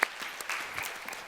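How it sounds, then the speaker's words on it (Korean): A church congregation at a young adults' worship service applauding, a soft, fairly distant patter of clapping that lasts only briefly. "하나님께 영광의 박수 함께 올려드리겠습니다"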